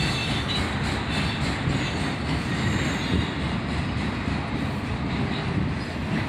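A long CSX autorack freight train rolls past, a loud continuous roar of wheels on rail with faint clicking and squeal, steady and close throughout.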